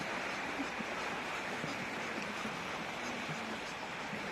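Waves on Lake Garda wash steadily in a faint, continuous hiss of water and surf, with no clear breaks and no voices.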